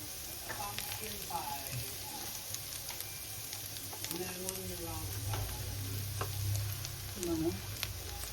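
Garlic and onion sautéing in a pan, a steady close sizzle running throughout while a person talks over it.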